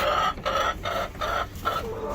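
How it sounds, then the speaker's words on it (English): Backyard chickens in a coop cluck in a quick run of close, overlapping calls, steady and fairly loud with no talking. "The chickens."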